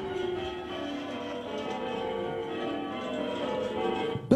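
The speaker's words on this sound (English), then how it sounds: "this is where we, the ringers, do the physical work to make the bells ring out across the village" Church tower bells rung by a team of bell ringers from the ringing room, sounding out across a village: steady, overlapping ringing tones hold throughout, with a short sharp knock right at the end.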